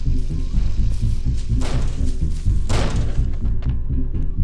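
Knocking in the Hello Neighbor video game: a series of dull, repeated thumps and thuds in an uneven rhythm over a low background hum, fairly loud and close.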